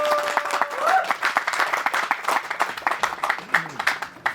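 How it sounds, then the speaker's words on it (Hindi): Loud applause for Milind Swami at the trailer launch party of the film 7/11 Mumbai Train Blast: vigorous, close clapping pulsing over a few seconds, with voices and faint background tones underneath. "एक जोरदार ताली।"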